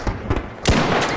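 Gunfire in the video game Arc Raiders, a few rapid sharp shots followed by a louder blast with a lingering roar, close and punchy.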